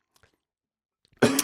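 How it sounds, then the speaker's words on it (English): A single cough close to the microphone, short and sharp, bursting out after a second of near silence with faint small noises before it. "Trigger warning, coughing at the start of the episode."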